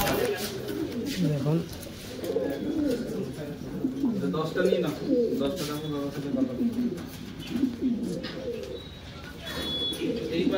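King pigeons in a loft coo in repeated low, throaty rolls, several birds overlapping close by, while someone talks over them.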